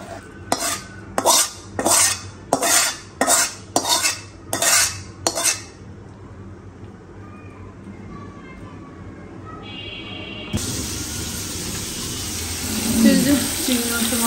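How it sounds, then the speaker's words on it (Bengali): Metal utensil stirring bhuna dal in a cooking pot, giving about eight evenly spaced clinks and scrapes over the first six seconds, then a steady background hum and clatter with faint kitchen noise. "তো এই যে ভুনা ডালগুলো রান্না করে ফেলছি।"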